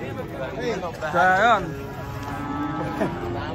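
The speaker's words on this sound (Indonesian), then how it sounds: "Iki sapi kayak apa ya? Singa laut." A sea lion gives a loud, rising and falling bellowing honk close by, heard among the chatter and murmur of a crowd of onlookers.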